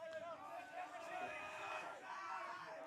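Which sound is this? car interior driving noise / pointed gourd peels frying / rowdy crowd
rowdy crowd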